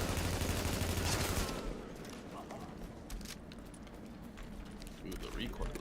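Heavy, recoiling weapon fire in The Division, a shooter set in New York, crackling in a loud burst at the start before thinning to scattered shots under ongoing voices.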